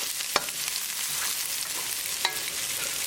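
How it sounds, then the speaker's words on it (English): Green chili frying in a tadka with translucent onions, stirred in the pan: a loud, continuous sizzle with two sharp spoon knocks against the pan, no talking. "Cook green chili along with tadka for 1 minute."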